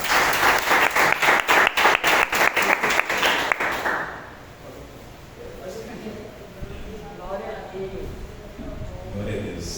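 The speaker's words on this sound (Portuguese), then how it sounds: "Vamos receber a eles com palmas para Jesus." A church congregation claps to welcome a couple, rapid rhythmic applause that is loud for about four seconds, then fades into a quieter murmuring crowd with some talk.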